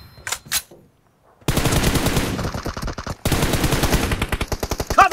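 Rapid automatic gunfire from a BGMI mobile battle royale match, two loud sustained bursts of close, rhythmic shots separated by a brief pause, after a short quieter opening.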